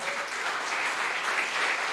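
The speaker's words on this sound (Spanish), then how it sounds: "Den un fuerte aplauso al Señor." A church congregation applauding during a sermon gives continuous, dense clapping that fills the whole stretch at a fairly loud level, with no voices on top.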